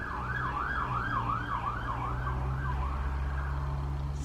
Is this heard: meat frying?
no